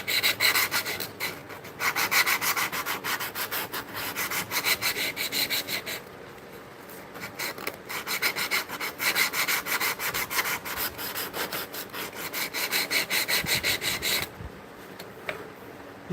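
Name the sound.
cleaning up a hole in a burl wood slab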